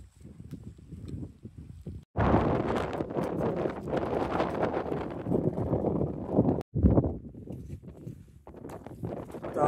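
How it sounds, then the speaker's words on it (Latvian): Gusty wind buffets the microphone at lake level on a hike through the Lake District, coming in loud irregular bursts with brief lulls between them, and no one speaks. "vējš mazliet mierīgāks"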